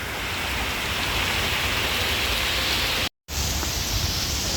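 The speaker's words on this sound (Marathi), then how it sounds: "जोरात पाऊस पडतो आहे" A downpour of heavy rain drums steadily at Palawan Green on Sentosa, Singapore, a loud continuous wash of noise broken by one brief dropout near the end before resuming unchanged.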